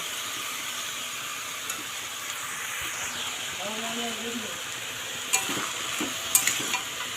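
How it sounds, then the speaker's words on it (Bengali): Prawns fry in a pan with a faint, steady sizzle, broken by a few soft stirring scrapes and clinks toward the end. "চিংড়ি মাছটা প্রায় ভাজা হয়ে এসছে"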